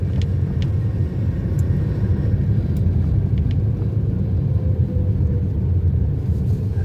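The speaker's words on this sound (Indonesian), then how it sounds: "kita harus menghadapi jalan rusak. Jadi kita harus berhati-hati dan menjalankan kendaraan dengan pelan-pelan saja" A car creeps slowly along a damaged road, its steady low engine and tyre rumble continuous and loud from inside the vehicle, with faint clicks and rattles above.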